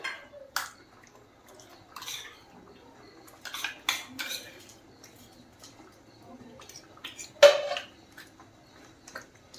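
Spatula scraping and clinking against a pan while green paste is mixed into pav bhaji; intermittent metallic scrapes and taps come in short bursts, moderately close, over a quiet background with no talking.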